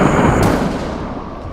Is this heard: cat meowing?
no